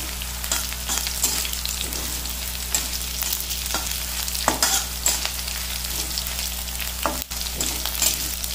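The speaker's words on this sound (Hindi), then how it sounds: "हम इसे अच्छी तरह से तल लेंगे।" A semolina and curd snack fries in hot oil, a steady loud sizzle with occasional scraping stirs of a spoon against the pan.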